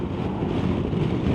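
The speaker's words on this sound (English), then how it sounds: "It's windy." Strong wind buffets the microphone while a scooter rides downhill on the approach to Seaside, Oregon: a dense, steady low roar lasting only a moment, with no voices.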